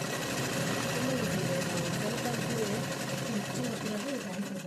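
A sewing machine runs continuously and fairly loud, stitching patiyala pants with a steady mechanical whir, while a voice talks over it.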